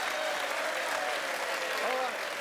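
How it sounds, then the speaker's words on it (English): A studio audience claps steadily in dense, continuous applause on a TV football show, with a voice faintly audible over the clapping. "Give Alan a big round of applause."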